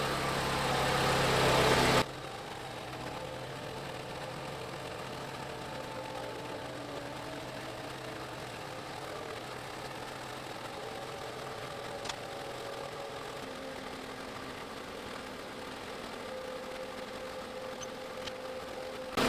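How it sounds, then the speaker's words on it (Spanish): A car engine idles steadily while warming up toward normal operating temperature, with its revs settling. The low hum holds even and continuous for a long stretch after a brief louder opening, and no one speaks. "el motor se va estabilizando, las revoluciones por minuto van bajando"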